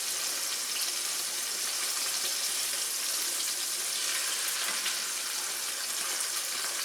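Chicken sizzles and crackles steadily in a hot pan, a constant bright hiss with no talking.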